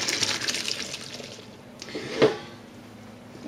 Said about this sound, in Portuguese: Tiramos bem a água da massa